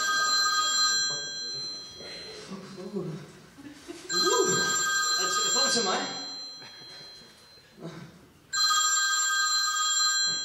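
Telephone ringback tones on an outgoing call, repeating in long regular bursts with pauses between them, with a voice speaking briefly in the gaps.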